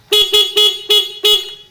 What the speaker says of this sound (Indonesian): klakson nyala